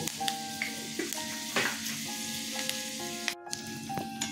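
Fenugreek seeds fry in oil for a katla fish curry, giving a steady close sizzle with occasional clicks and scrapes, while a faint tonal hum runs in the background and a brief dropout breaks the sound near the end.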